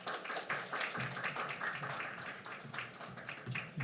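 A church congregation claps together at a Sunday service to welcome the pastor, producing a steady, rhythmic patter of many hands that continues evenly throughout at moderate loudness.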